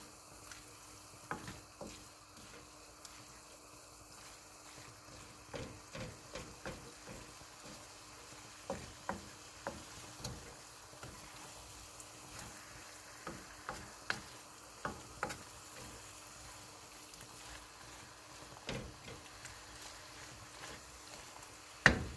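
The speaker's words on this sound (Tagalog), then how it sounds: "Haluin mo lang hanggat sa lahat na halo mayroong sauce." A spoon stirring beef and vegetable stir fry with sauce in a pan, producing scattered soft scrapes and clicks over a faint low sizzle, quiet and close.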